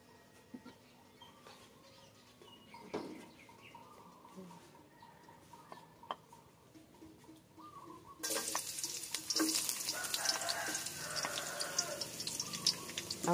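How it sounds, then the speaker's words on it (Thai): Wild mushrooms stir-frying in coconut oil, starting as faint scraping and stirring, then bursting into a loud, steady sizzle that hisses on continuously once the pan heats up. "เตรียมผัดแล้วจ้าจะใส่น้ำมันมะพร้าวลงไป"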